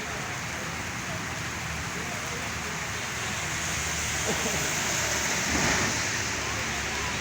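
Rain falling steadily on a main road lined with shops, a constant even hiss throughout, with no voices standing out.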